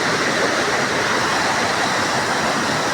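A loud, unbroken roar of river water rushing through headworks on the Sutlej and Beas at Harike Pattan, heavy and close, with no voices.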